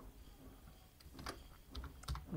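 Keyboard typing on a computer while an SQL query is entered, a few soft clustered key taps at close range over faint background noise, growing slightly busier toward the end.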